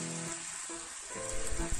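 Beef fries in its own rendered fat in a pan, a faint soft sizzle with a few quiet stirring scrapes near the end.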